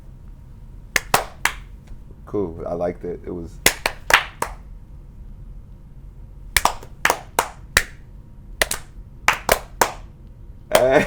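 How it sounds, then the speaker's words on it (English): Scattered claps sound in short, sharp bursts of a few hands at a time, with gaps between them. Someone speaks briefly partway through. "Can I get a round of applause really quick?"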